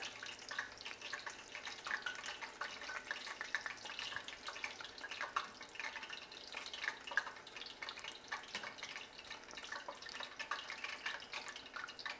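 Corn fritters fry in hot oil with a dense, steady crackle and sizzle of fine pops. The sound is close but soft and has no talk over it.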